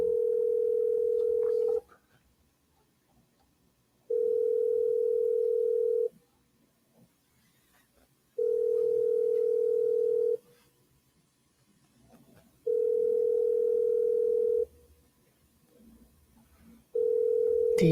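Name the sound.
telephone ringing during a call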